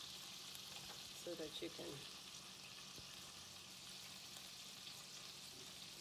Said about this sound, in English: threw the meatballs in there? And they're cooking and sizzling